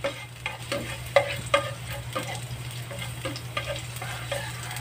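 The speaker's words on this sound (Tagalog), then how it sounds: "Gigisa natin ang bawang." Garlic sizzling as it sautés in a frying pan, a steady close fry with several sharp stirring clinks and scrapes, over a low background hum and with no talking.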